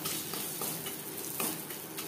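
Chillies and bori (sun-dried lentil dumplings) sizzle in oil in a kadai over a low flame, with steady frying hiss and a few soft clinks of a stirring spatula throughout.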